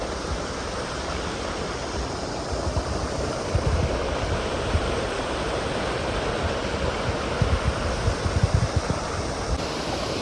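Waterfalls near Zealand Hut on the Appalachian Trail, a continuous broad rush of falling water that holds steady throughout with no voices.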